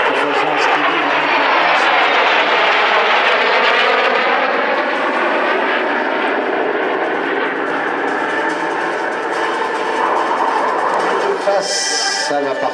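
Vintage aircraft flying over La Ferté-Alais airfield during an airshow, a loud sustained engine roar with shifting pitch that swells and holds, a commentator's voice talking over it in French.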